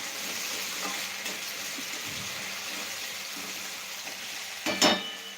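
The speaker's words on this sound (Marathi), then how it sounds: "बटाटा आपण तेलामध्ये टाकला आता याला व्यवस्थित असं भाजून घ्यायचं आहे" Potatoes fry in hot oil for sabudana khichdi, a steady soft sizzle with occasional stirring scrapes and a brief louder clatter near the end, close by with no talk.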